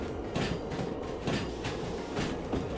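A DH4 diesel locomotive running in the train simulator game Derail Valley, with rhythmic clickety-clack of wheels over rail joints repeating about every second under a steady rumbling roar, no talking.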